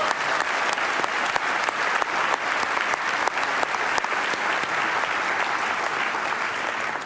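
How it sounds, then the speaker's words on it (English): Loud, sustained applause for the hosts at an awards ceremony, a thick crowd of clapping hands with a few sharper individual claps standing out, continuing without pause for about seven seconds. "Let's give them a round of applause."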